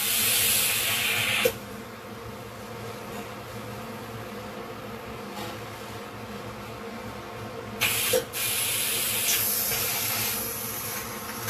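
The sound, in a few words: steam escaping while making dry ginger coffee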